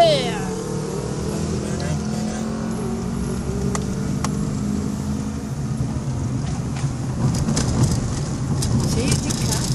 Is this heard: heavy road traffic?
yes